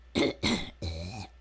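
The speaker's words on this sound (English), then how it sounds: "Cough, cough." Three quick coughs in a quiet classroom during a math and science lesson: two short, sharp bursts followed by a longer, rougher throat-clearing cough, close and fairly soft.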